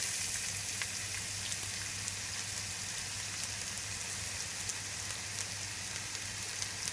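Half a yellow onion fries in olive oil in a pan for a saffron chicken stew, giving a steady, even sizzle with faint crackles throughout, no voices over it.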